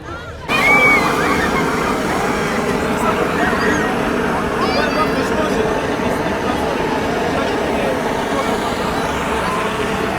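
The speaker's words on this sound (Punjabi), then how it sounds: "ਕਿੰਨੇ ਦੂਰ ਤੱਕ ਪਾਣੀ ਦੀ ਨਾ ਛੱਲ ਜਾਂਦੀ ਤਾਂ ਪ੍ਰੈਸ਼ਰ ਵੇਖੋ ਕਿੰਨਾ ਪਾਉਂਦਾ ਜੋ" Water sprays steadily from the Dragon Bridge show in Da Nang, a loud, continuous rushing wash heard over crowd and traffic noise for the whole stretch.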